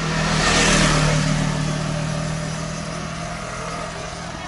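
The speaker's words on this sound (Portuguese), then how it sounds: "Mais um carro. Moto." A car or motorcycle engine passes close by outdoors near the Rock of Gibraltar, swelling loudly in the first second and then fading into steady traffic rumble, with no talk over it.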